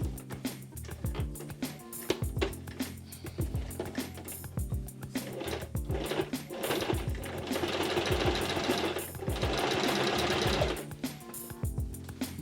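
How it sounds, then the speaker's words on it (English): A sewing machine stitches a tote bag in quick rhythmic bursts of mechanical clatter, speeding into longer continuous runs near the end, close and clear. "let's try stitching it now and hope it goes okay, otherwise I'll be hand stitching it"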